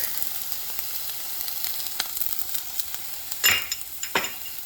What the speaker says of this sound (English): we're going to put the onion in the pan. And we're going to add the garlic.